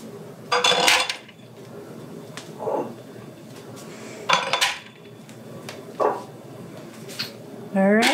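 Glass canning jars are set into a canner on the ground, giving several separate clinks and knocks of glass against metal at uneven intervals, close by and fairly loud, with short pauses between them.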